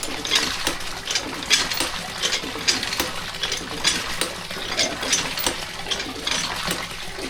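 A hand water pump is worked from a seated position while doing laundry, giving repeated metallic clanks and splashy water strokes in an uneven but steady rhythm, close and fairly loud.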